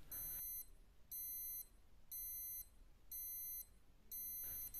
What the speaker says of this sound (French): Nous remarquons les 5 bips signalant les 5 dernières secondes.